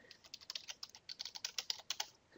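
Fast typing on a computer keyboard, a quick run of light clicking keystrokes over about two seconds, close and fairly quiet with no talking.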